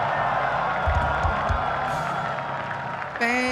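Church congregation clapping and cheering at a sermon, a dense steady wash of applause with scattered whoops, close and loud; a brief tonal sound cuts in near the end.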